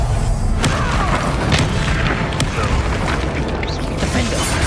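Booming spell-blast effects from a Hogwarts Legacy duel against Rookwood, a dense, loud barrage of magical impacts, whooshes and thuds layered over battle music.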